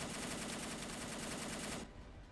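A rapid, steady stream of 23 millimeter cannon fire from a turret in the From The Depths game, loud and dense for nearly two seconds before cutting off abruptly into a fading tail.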